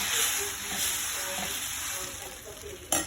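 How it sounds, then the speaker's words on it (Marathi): Dosa batter sizzles steadily on an oil-greased tava, a continuous close frying hiss with a brief sharper crackle near the end and no talk. "गाईज मी डोसे करत आहे."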